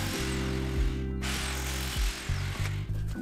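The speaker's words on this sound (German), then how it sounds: "musst du mit einem 8mm Bohrer 4 Löcher in die Wand bohren" A power drill with an 8 mm bit whines loudly and continuously, pausing briefly a few times as it bores holes into a hard wall.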